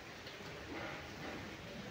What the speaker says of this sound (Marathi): मस्तपैकी पाऊस पडत आहे